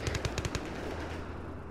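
Gunfire in Arma 3 during a co-op special forces mission, a quick burst of about six automatic shots in rapid rhythm that fades into a low rumble.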